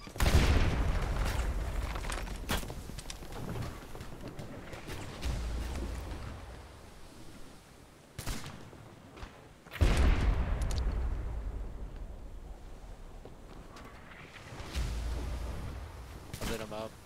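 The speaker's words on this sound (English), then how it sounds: "Fire the right cannon!" Ship cannons firing in a Sea of Thieves naval battle, with heavy booms landing every few seconds over constant wind and water rumble while players shout orders.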